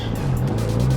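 A Fiat 500 Abarth launches from a standstill, its small turbocharged engine droning loudly and climbing in pitch for about a second, heard from up close with no talking.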